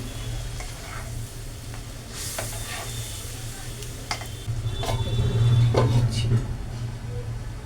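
Fried potato, pumpkin and chickpeas tipped into a hot pan, a close steady sizzle with clattering stirs and spoon taps that swells louder as the pieces hit the oil.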